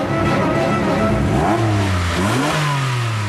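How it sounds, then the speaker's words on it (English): Sports car engines rev hard and loud at close range in a half-mile drag race between an Audi R8 and a Porsche 911 Carrera S, the pitch sweeping up and dropping back. "we decided to settle it intelligently with a half-mile drag race"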